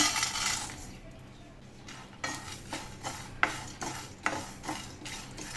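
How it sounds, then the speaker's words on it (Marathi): Sesame, sunflower and pumpkin seeds dry-roast in a pan. A quiet stretch gives way to regular scraping strokes as a spatula stirs them, each stroke a short, close, rattling scrape. "तीळ, सनफ्लॉवर सीड आणि पंपकिन सीड टाकूया आपण, म्हणजे भाजून घेऊया."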